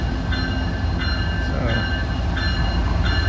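Steady rumbling of a train rolling past nearby, with a continuous low roar and faint metallic tones, sustained throughout.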